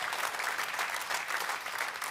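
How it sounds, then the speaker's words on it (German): A live audience at a cabaret comedy show claps steadily for a couple of seconds, a dense wash of applause with no voices over it. "Ja, da kann man klatschen"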